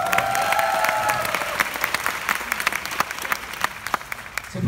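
Audience applause at a Korean company presentation, crowd clapping with sharp individual claps standing out over a dense wash, a brief tonal sound at the start and a few faint cheers mixed in.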